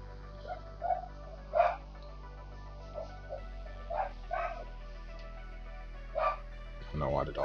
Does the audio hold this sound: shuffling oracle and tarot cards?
no